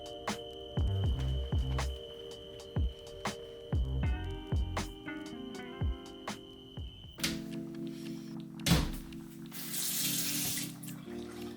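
Water runs from a bathroom sink tap during an evening face-washing routine, a steady close splash and rush with intermittent interruptions and a hum, alone without any talking.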